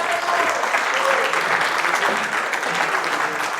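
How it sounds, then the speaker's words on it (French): Church congregation applauding the worship singers and musicians, a steady, dense wash of clapping from many hands that holds even and fairly loud throughout, with no voices standing out. "Je pense qu'on peut les applaudir à la gloire de Dieu."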